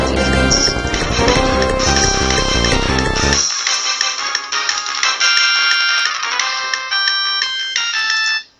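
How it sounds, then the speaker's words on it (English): Synth bass from a Pokemon soundfont played in FL Studio, first as a dense, loud chiptune-style passage, then switching to a thinner, bright melodic line of short repeated notes that stops abruptly at the end. "I'm going to get the synth bass one."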